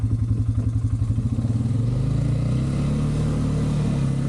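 An ATV engine in low gear climbs a canyon trail near Carson City, Nevada, with an uneven chugging pulse at first that smooths into a steady, close, mid-pitched drone as it pulls uphill.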